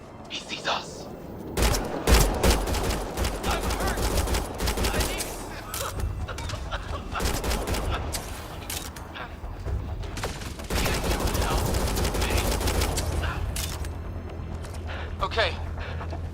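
Heavy sustained gunfire in the sci-fi shooter Mass Effect Andromeda, continuous loud volleys and rapid bursts filling nearly the whole stretch with brief lulls, explosive booms mixed in and voices shouting over the firefight.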